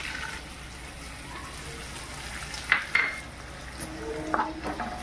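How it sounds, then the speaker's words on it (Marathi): Edible gum pieces frying in a spoonful of hot ghee for ragi laddu give a faint, steady sizzle, with a couple of sharp clinks of a spoon against the pan near the middle and end. "त्या तुपातच आपल्याला आता डिंक तळायचं आहे"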